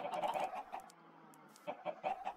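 Chickens clucking in the Minecraft video game, a few short bursts of synthesized clucks that start and stop unevenly, fairly quiet with gaps between calls and no talking.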